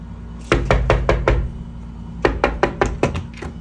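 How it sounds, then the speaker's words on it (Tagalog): Knocking on a house door: two bursts of about five sharp, evenly spaced raps each, separated by a short pause, close and clear with nothing else heard. "parang may kumakatok"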